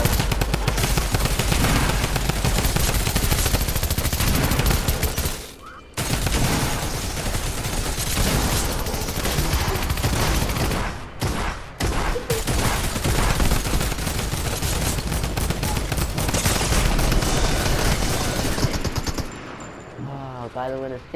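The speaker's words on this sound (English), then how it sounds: "Let me try this gun, guys." Rapid, sustained automatic gunfire from a gun in an underwater survival game, loud dense bursts running nearly continuously with a few short pauses, and a voice talking underneath.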